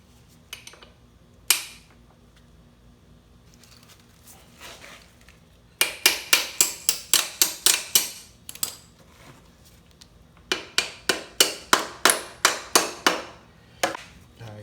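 A pin is tapped into a dirt bike foot peg with a hammer, giving two quick bursts of sharp, evenly spaced metallic taps, about eight in each run, close and loud, with a few isolated knocks before them.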